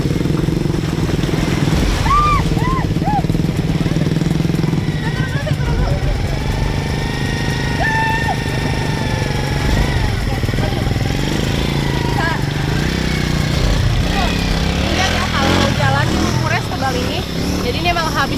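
A motorcycle engine labours through deep mud on a rain-soaked village track, revving and straining steadily throughout, with people talking over it.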